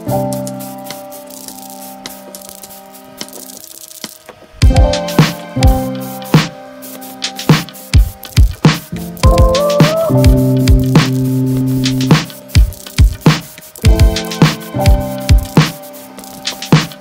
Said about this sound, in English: Spray some red.